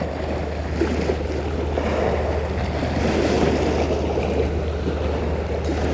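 Continuous broadband roar of waves washing onto a shore, steady and fairly loud, with wind noise rumbling on the microphone throughout and no voices.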